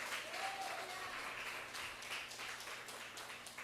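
A church congregation applauding, a steady wash of many hands clapping at a distance, fairly faint, with a voice briefly audible beneath.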